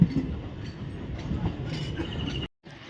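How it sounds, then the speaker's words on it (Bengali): A Sealdah–Tarakeswar suburban local train rumbles along the rails with a low, steady roar and faint rattling, cut briefly by a short silence near the end. "এবার কিন্তু ট্রেন টানবে"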